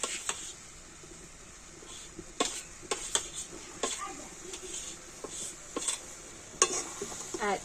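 Chhana, a fresh cottage cheese, is stirred through boiling milk in a pot, giving a low bubbling bed under repeated sharp scrapes and knocks of the spoon against the pan.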